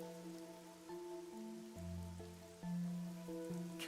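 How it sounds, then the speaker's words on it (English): Steady rain hisses across the whole stretch in the video game Master Detective Archives: Rain Code, beneath sustained musical tones that shift pitch every second or so, with no voices. "No one knows why the rain never lets up."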